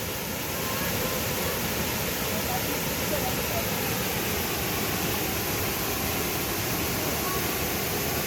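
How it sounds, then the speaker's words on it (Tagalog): Mt. Maarat Falls in San Mateo, Rizal roars with a steady, dense rush of falling water, loud and constant throughout. "Dami yung falls pala dito mga bayan."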